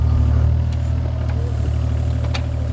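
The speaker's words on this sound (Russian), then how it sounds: "трактор начал рыть траншею" A tractor digging a trench rumbles steadily at a low idle, a continuous engine drone heard close up with a few faint clanks above it.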